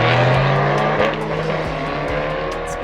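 A loud car engine roars at close range, with a harsh tire squeal and skid as a Ford Fiesta ST or Fiat 500 Abarth brakes hard.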